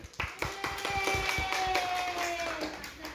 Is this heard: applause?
yes